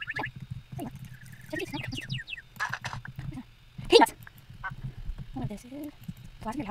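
Bird creatures in the video game Minecraft give short honking, quacking calls, like ducks or geese, scattered through the clip under a person talking.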